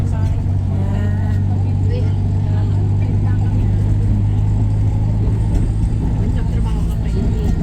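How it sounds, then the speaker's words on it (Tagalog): A noisy passenger vehicle driving in Baguio City rumbles with a steady, low engine drone and road noise throughout, loud and close from inside the cabin, with a faint voice underneath. "Maingit tong sasakyan namin."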